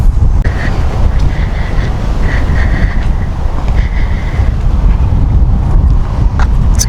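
Steady low rumbling wind buffeting the microphone fills the whole stretch, loud and continuous, with faint tonal sounds in the background.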